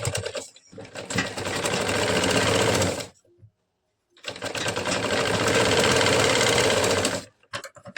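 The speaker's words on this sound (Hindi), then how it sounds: "पहले आप नीचे में आधा इंच इस तरह से नीचे साइड करके सिलाई लगा लेना है," A sewing machine stitches a half-inch folded hem on a katori blouse in two loud, close, rapid runs of about three seconds each, split by a brief silent pause.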